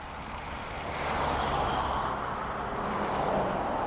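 An Aer Lingus airliner at Dublin Airport gives off a broad, steady jet roar that swells slightly after the first second and holds, heard from a distance with no voices.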